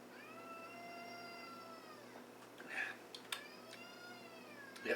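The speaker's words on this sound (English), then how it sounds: "that is my cat who has a tendency to make an appearance." A cat meows in a long, drawn-out wail, then gives a couple of shorter meows, fairly close, over a low steady hum.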